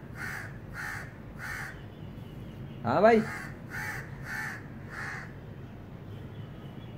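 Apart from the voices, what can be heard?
crow cawing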